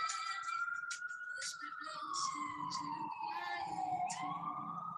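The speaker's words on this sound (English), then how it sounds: "it's an ambulance." An ambulance siren wails in a slow, sweeping rise and fall, sounding somewhat distant and faint, with a voice speaking quietly over it.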